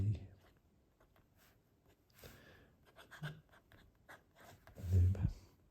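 A Sailor ebonite fountain pen with a Naginata Togi nib scratches softly across paper in short close strokes, a faint delicate writing sound mixed with a man's quiet speech and breathing.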